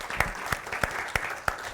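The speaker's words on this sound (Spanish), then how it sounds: "Un aplauso." An audience applauds with steady, evenly spaced claps at a moderate level, sounding like a small group in a room and not a large roaring crowd.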